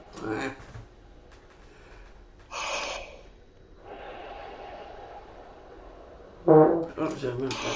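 A player takes big breaths and blows air through a horn held on the F side with all three valves down, giving soft airy rushes between audible inhalations, quiet and close.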